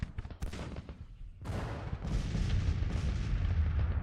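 Civil War artillery cannon fire in a battle strategy game, several booming shots in quick succession followed by a rolling, continuous rumble of distant guns and battle noise.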